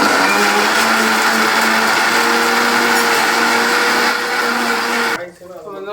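A mixer grinder blending watermelon juice whirs loudly at a constant high pitch, then abruptly cuts off near the end.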